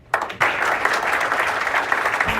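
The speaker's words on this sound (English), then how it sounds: "big round of applause for all of you being here today." Audience applause at a lottery charity event, a dense, steady clapping that breaks out after a brief pause and carries on evenly throughout, loud and close with no talk over it.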